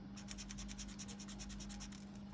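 Steady, rapid rhythmic scraping, a coin scratching a lottery scratch card back and forth, close and continuous over a low hum.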